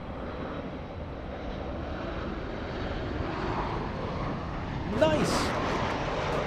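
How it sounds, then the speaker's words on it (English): JetBlue airliner lining up for takeoff at LAX, its jet engines a steady broadband roar throughout, with a brief sharper swell near the end and a short spoken remark. "JetBlue 524 flying to our home away from home, New York City, JFK."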